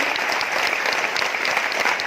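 Steady audience applause at a business presentation event, a dense even wash of many hands clapping throughout.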